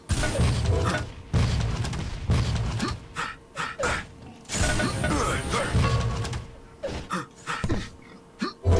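Rocket launcher shots and explosions in a Quake-style arena shooter, several heavy booms and thuds spaced across a stretch of fast movement and game noise.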